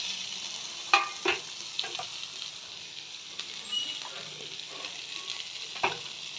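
Tomato, capsicum and bell pepper fry in a pan for chicken soup, a quiet steady sizzle broken by a few sharp utensil knocks and stirring scrapes, with no speech.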